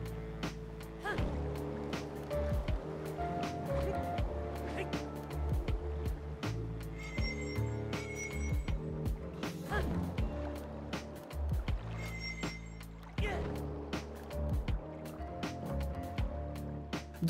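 Sailing across open water in the video game Zelda Breath of the Wild: soft water splashes and lapping wave sounds under a steady layered game music track with bright chime notes, with no talking.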